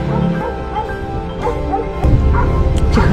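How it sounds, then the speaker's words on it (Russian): A dog barks and yips a few times against a rumbling, noisy background in a flooded area, the barks short and moderately close. "Вот здесь тоже еще один пес"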